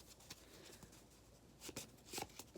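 A stack of business cards is shuffled by hand, giving soft papery riffles and flicks that cluster into quick bursts near the end, close and fairly quiet with no talking.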